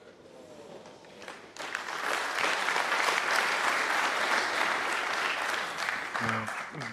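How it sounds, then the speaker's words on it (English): Applause from a snooker audience at the Players Championship after a fortunate shot, swelling quickly into sustained, dense clapping that holds steady for several seconds, with some speech faintly beneath. "Get some little round of applause for that shot"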